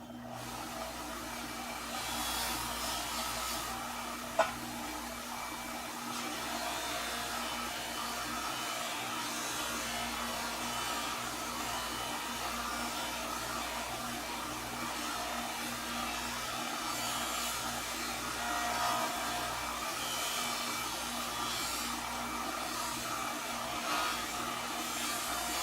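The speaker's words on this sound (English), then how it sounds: "I'm using regular old carnauba wax on this wheel. And we just polish it up." A buffing wheel polisher hums in a steady, even whir while a briar pipe is polished with carnauba wax, a continuous motor drone lasting throughout with a single sharp knock near the start.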